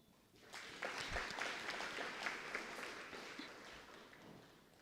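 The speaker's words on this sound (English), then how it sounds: "Can we give them a big round of applause?" An academic research day audience breaks into applause, building quickly into steady, dense clapping that carries on throughout and fades slightly near the end.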